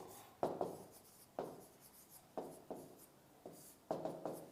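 Chalk or marker strokes on a board during a Hindi lesson: about seven distinct rhythmic scrapes, each a short sharp stroke fading out, close and fairly quiet, with no speech.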